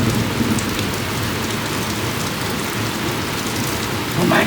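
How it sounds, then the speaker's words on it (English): Heavy rain during a thunderstorm pours down in a loud, steady, dense hiss that never lets up, with no voices over it. "after last night's storm and heavy rain"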